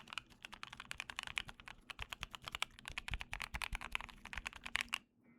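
Steady, rapid clacking of a mechanical keyboard fitted with Hacker Mint keycaps, close and crisp, continuous key strikes with uneven rhythm for about five seconds before stopping.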